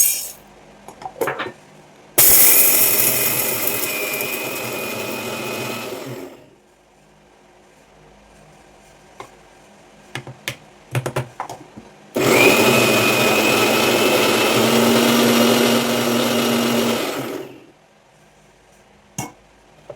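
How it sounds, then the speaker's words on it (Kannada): A kitchen mixer grinder (mixie) runs in two loud, steady bursts of whirring, grinding whine, each about four to five seconds long, separated by a quieter pause with faint clatter. "ಸದ್ಯ ಕರೆಂಟ್ ಬಂತು, ಫಸ್ಟ್ ಮಿಕ್ಸಿಗೆ ಹಾಕೊಂಡ್ಬಿಡ್ತೀನಿ."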